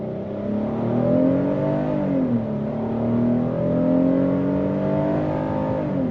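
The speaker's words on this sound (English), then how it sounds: "And then we're gonna go on throttle." A 2026 Hyundai Palisade Calligraphy SUV accelerates hard in sport mode, its engine drone rising and falling through shifts as a steady, fairly loud whir heard from inside the cabin, with no talking.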